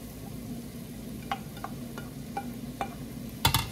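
Chopped garlic drops into hot oil in a pan while cooking beef kare-kare, giving a steady close sizzle with a few light stirring clicks and taps and no talking.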